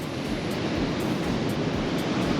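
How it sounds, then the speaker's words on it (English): Big ocean waves break and roll onto the shore, a loud continuous surf roar with repeated surges, close and with no voices. "there's some big old waves rattling in"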